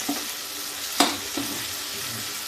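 Onions fry in a pan for a rajma gravy, a steady sizzle with a few sharp stirring clicks and scrapes, close and without speech.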